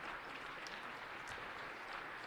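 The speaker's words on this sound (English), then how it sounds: "Let's give them a round of applause." At a city council meeting, the chamber audience gives visiting students a steady round of applause. The dense, even clapping is fairly quiet and distant and continues without a break.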